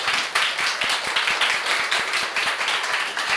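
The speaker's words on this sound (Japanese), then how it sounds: "大きな拍手を持ってお迎えください" Audience applause at a Japanese press event greeting the actress Dan Mitsu as she arrives, steady rhythmic clapping at moderate volume with no talk over it.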